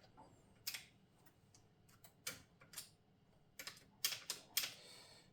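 The mechanism of an Underwood 5 typewriter advances the paper in a run of sharp metallic clicks and ratchet ticks, scattered and then bunched toward the end, close and fairly quiet, with no talk.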